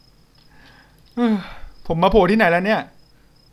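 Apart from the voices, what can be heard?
crickets chirping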